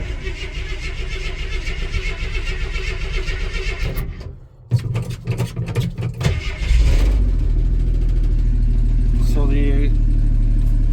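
A 1973 Jeep DJ-5C with a 232 engine cranks in short bursts, then catches and settles into a loud, steady idle close by, with a voice talking over the running engine.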